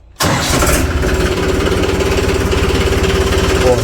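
After a brief quiet moment, a diesel tractor engine cranks and catches, then settles into a loud, steady, rhythmic chugging idle close by.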